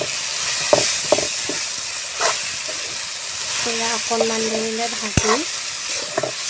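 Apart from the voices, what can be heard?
taro greens frying and being stirred in a pan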